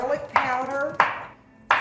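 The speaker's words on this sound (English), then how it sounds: "going to just dice up a little tomato." Three sharp, crisp knife chops on a cutting board as a tomato is diced, spaced unevenly about half a second apart, close and clear with no talking.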